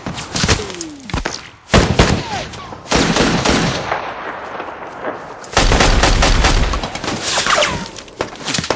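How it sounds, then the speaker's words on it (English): Heavy movie gun battle: loud bursts of automatic gunfire and sharp single shots rattle close by in clustered volleys with brief lulls, the firing intensifying again toward the end. "When the gun battle does break out,"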